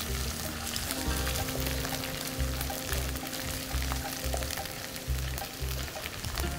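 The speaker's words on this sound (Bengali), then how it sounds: "পেঁয়াজ আর রসুন যখন দিবেন আপনি ওইটাকে পুরো বাদামি না হওয়া পর্যন্ত ভাজবেন এবং একদম মৃদু আঁচে ভাজবেন" Onion and garlic fry gently over low heat, a dense close sizzle running throughout, with a low rhythmic thumping underneath that repeats about every half second.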